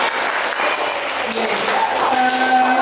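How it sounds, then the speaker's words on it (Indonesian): A classroom audience claps steadily in dense, continuous applause, close and fairly loud, with a voice briefly talking over it near the end. "Aplaus untuk semuanya dulu"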